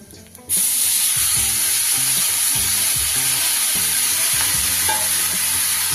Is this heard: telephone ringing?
no